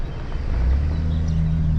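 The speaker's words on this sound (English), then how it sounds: "So there goes Dad in the Chevy." Chevy truck pulling away on a farm, a low engine rumble that swells and steadies as it drives off nearby, with no talk.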